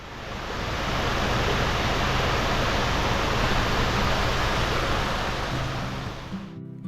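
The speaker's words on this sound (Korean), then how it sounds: "내려갈 때는 못 보았는데 폭포가 있어요" A waterfall beside the Dong River road in Jeongseon, heard as a loud, continuous broadband rush of falling water that swells in and fades slightly at the end, with no voices.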